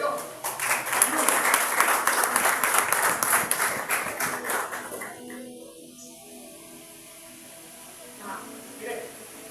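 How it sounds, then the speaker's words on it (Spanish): Church congregation applauding, a burst of many hands clapping for several seconds before fading out to near quiet, with faint sounds afterward. "Den un fuerte aplauso a Dios."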